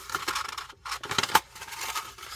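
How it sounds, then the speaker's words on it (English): Crinkly plastic packaging handled close to the microphone during an unboxing of a witchy oddities subscription box, bursts of crackling and rustling with short scratchy flares, fairly loud and uneven, no talk. "Sorry about the crinkly noise."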